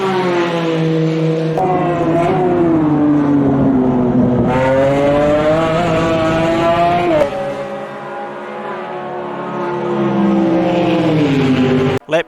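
A Porsche GT1 race car in a racing video game at Watkins Glen gives a loud, buzzing engine whine that climbs and drops in pitch through repeated gear shifts, with other car engines droning alongside.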